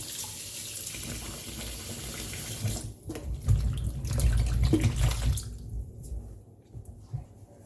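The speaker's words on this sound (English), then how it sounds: "Just give them a nice rub and rinse." Oranges being rinsed and rubbed under a running kitchen tap, a steady close stream of water splashing into the sink with shifting gurgles as the fruit is moved around, no talking.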